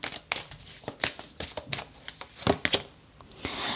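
Tarot cards shuffled by hand in a run of crisp riffling bursts and soft slaps, several quick flurries across a few seconds, close and moderately loud with no talking.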